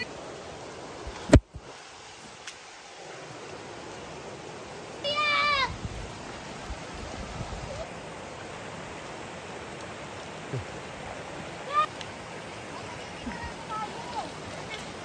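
A mountain river flows as a steady, soft, broadband rush throughout, with a sharp knock early on and a few brief high chirps over the water.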